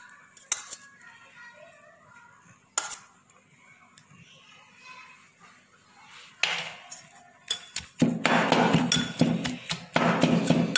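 Pounding chutney in a mortar and pestle, sharp scattered knocks and clinks at first, then a dense burst of rapid grinding and thumping toward the end, close and loud.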